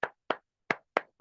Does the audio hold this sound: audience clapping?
yes